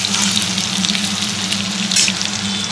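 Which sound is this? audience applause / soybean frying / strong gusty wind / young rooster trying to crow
soybean frying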